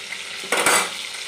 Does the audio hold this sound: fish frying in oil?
yes